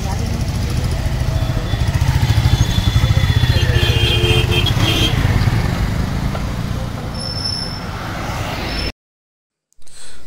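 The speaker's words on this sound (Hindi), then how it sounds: "पहाड़ों पे बाइक चलाने का मज़ा ही कुछ हो रहा है यार" A motorcycle rides along mountain roads, its engine a steady, loud, close drone with wind rush, then it cuts off suddenly near the end before a brief burst returns.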